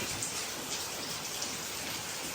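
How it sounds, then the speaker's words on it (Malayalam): Steady soft rain falls outside, an even hiss of drops with no pauses, fairly quiet and distant. "പുറത്ത് നല്ല അടിപൊളി മഴ കേട്ടോ"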